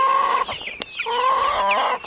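Farm chickens clucking close by, a quick run of loud, overlapping clucks and squawks with a brief gap in the middle, no talking.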